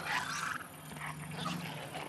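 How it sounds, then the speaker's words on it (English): Laika, a creature in Robinson: The Journey, lets out a low growling roar that swells, dips, then rises again over about two seconds, moderately close with no talk over it. "Now have it bark at them."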